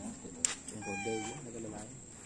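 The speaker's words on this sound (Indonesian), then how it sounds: "Ini ada kucingnya juga." A cat gives a short meow near the start of the clip, with people talking over it and around it.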